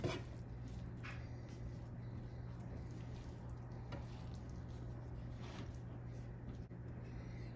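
Potatoes and onions frying in a pan on medium-high heat, a faint, steady, even sizzle with no talking and only a few slight stirring ticks over it.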